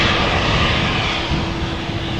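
An airliner on a flight to Venice at Amsterdam Schiphol makes a close, loud, continuous engine roar with a steady whine running through it, heard alone over a short span.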